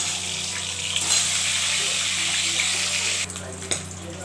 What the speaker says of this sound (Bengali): এবার ডিমটা ভেজে নিচ্ছি।